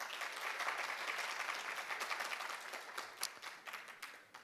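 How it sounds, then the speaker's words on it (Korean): An audience at a conference talk gives a warm round of applause, with dense, fairly distant clapping that fades gradually toward the end. "따뜻한 박수로 맞아 주셔서"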